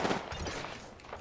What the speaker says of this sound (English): And it's just the gunshots that are desynced.